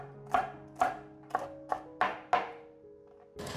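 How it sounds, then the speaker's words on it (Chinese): A knife chops celery on a cutting board in six crisp, evenly spaced strokes, close and distinct, followed by a brief rustle. "剩下一半的芹菜来切碎"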